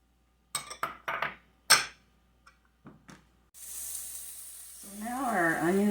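Onions and red peppers soften in a hot pan for a tofu scramble: a few clinks of utensils against the pan, then a steady close sizzle rises and runs to the end, with a voice talking over it at the close.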